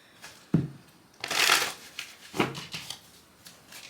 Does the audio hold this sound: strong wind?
no